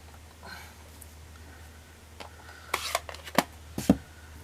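A craftsperson cuts material by hand. Scraping and rasping strokes come quiet at first, then build into a few sharp, louder cuts near the end over a low steady hum.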